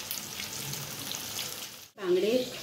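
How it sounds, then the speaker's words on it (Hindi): Fish frying in a well-heated pan, a steady hiss of sizzling oil that briefly cuts out, then resumes louder as a voice speaks over it. "इसमें मछली डाल देंगे, देखिए अच्छे से गरम हो गया है"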